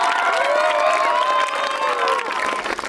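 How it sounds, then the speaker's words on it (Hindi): School children at a Children's Day event at Lala Jagat Narain D.A.V. Model School clap and cheer loudly together, a dense sustained roar of young voices and hands that fades slightly toward the end. "तालियां।"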